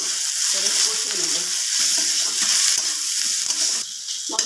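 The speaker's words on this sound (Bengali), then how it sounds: "এবার ভালো করে মশলাটা করে কষিয়ে নেব" Spice masala for a katla fish kalia fries in a pan with a steady, loud sizzle throughout, lifting briefly near the end as it is stirred.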